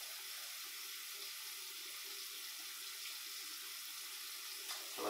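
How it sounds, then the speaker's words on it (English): Wash aid being poured into a film developing tank, a soft steady trickle of liquid running throughout, faint and close, ending with a brief knock at the end. "We're going to pour the wash aid in here."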